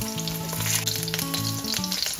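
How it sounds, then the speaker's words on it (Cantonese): Meat patties with salty shrimp paste pan-fry in a wok with a steady, close crackling sizzle, heard under background music. "好啦，呢邊肉餅咧已經煎咗2分鐘"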